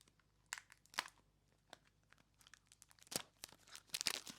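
Sunny Angel blind box packaging is torn and crinkled open at close range: scattered sharp tearing and crackling bursts with quiet gaps, growing busier toward the end, with no talking.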